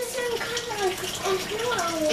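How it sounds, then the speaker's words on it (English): Water pours and splashes steadily into a tub where wool fiber is being washed in hot water for dyeing, a continuous close gush with a voice speaking over it. "I'm washing the fiber now is because I need the wool to be warm when it goes into the water"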